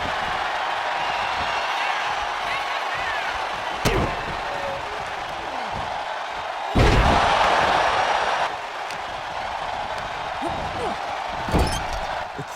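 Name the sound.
tag team move slam on wrestler in WWE 2K24 video game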